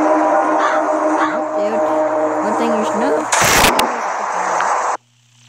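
A single loud gunshot burst from the survival video game Last Day on Earth: Survival rings out midway over steady in-game music and background sounds, then the scene cuts to quiet.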